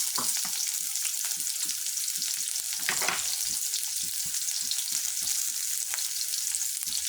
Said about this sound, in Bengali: এখানে কিছু পেঁয়াজ ভেজে নেব।